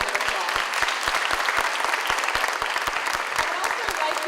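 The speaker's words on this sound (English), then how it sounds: "So let's give them a round of applause." An audience claps steadily at a special needs graduation ceremony, a dense continuous round of applause with sharp individual claps standing out nearby, sustained evenly throughout.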